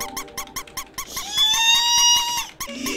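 A squeaky mushroom in the Undertale video game gives a rapid run of sharp rubbery squeaks, then a long drawn-out rising squeal before a few more quick squeaks, loud and close.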